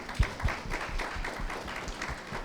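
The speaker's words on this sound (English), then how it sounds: "Big round of applause for him." Audience applause at a Sushena Health Foundation oration event, a quiet, fairly distant patter of clapping with a few sharper, closer claps near the start.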